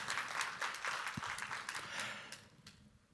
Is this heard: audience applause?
yes